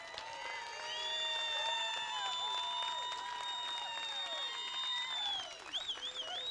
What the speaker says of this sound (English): Clap for these young 17 up here.